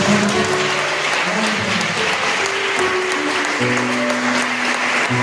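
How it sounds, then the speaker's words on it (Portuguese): A church congregation claps and cheers for Jesus, giving dense, steady applause throughout that fills the room, with a few voices calling out beneath it. "Quem pode aplaudir a Jesus?"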